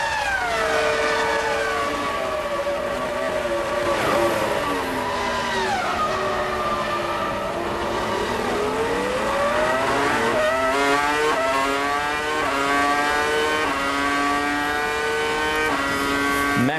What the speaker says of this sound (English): Massive straight line speed as we listen to the Ferrari.